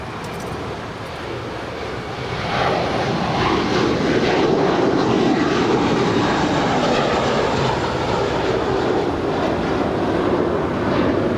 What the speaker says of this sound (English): next departure, JetBlue Airways, flight 1524, heading to JFK, A321.